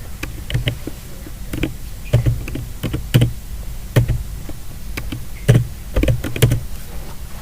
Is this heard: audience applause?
no